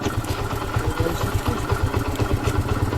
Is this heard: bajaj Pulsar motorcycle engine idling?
yes